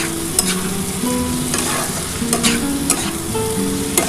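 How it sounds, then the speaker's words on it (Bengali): Spice paste for a fish-head and potato curry sizzling loudly in a pan while being stirred, with repeated scraping strokes of the spoon over a continuous frying hiss, close up and without voices. "একটু ভালো করে কিন্তু এটা কষাতে হবে।"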